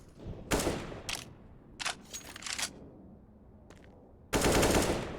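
AK rifle fire in a Counter-Strike match, heard as several sharp bursts and single shots spaced across the stretch, ending in a loud sustained burst of automatic fire.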